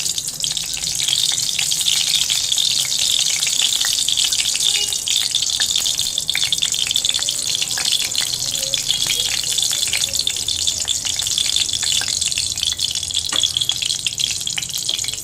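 Mustard oil heating in a well-heated wok, a steady bright hiss of sizzling oil throughout, close and constant with scattered small crackles and no talking.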